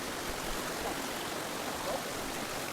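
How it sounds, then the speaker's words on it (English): Steady rushing of water at Sampavati waterfall, a dense, even roar of flowing stream with no speech, constant and fairly close. "we are here at Sampavati waterfall"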